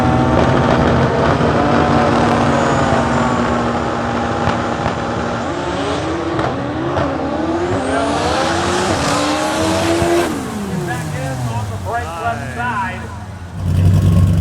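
A 2500 hp Supra drag race car with a fresh cylinder head, fired up and revving, its engine tone climbing and falling loudly through repeated sweeps and blips, with crowd and track noise around it.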